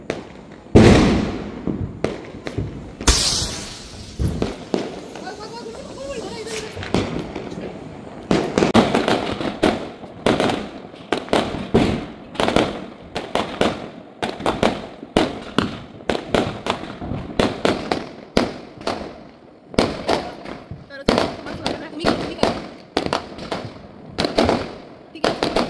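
Firecrackers burst during a family Diwali celebration on a rooftop, a long run of sharp, loud cracks and pops, some in rapid clusters, with brief gaps between volleys.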